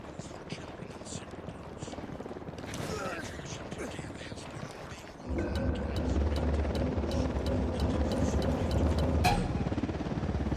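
Helicopter in the video game Ghost Recon Wildlands, a steady rotor drone that jumps louder about halfway through and holds close and heavy to the end, with game noise and voices alongside.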